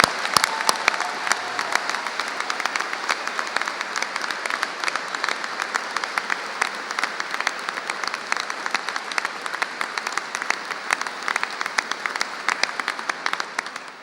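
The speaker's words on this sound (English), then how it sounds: "Perhaps you'd like to join with me in one further round of applause for" Audience applause for new graduates at a ceremony, a steady wash of many hands clapping that fills the room and runs unbroken for the whole stretch before gradually thinning at the end.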